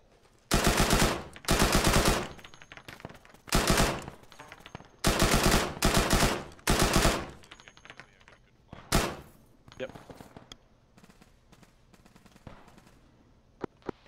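Automatic and single-shot gunfire from an Arma 3 military firefight, with repeated loud bursts in the first half, then scattered shots fading further off, with a voice speaking briefly among them.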